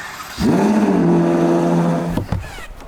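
A Ferrari 812 GTS fitted with a Novitec exhaust gives a brief, smooth, fairly soft engine drone as the car swings around nearby, rising in, holding for under two seconds and then cutting off.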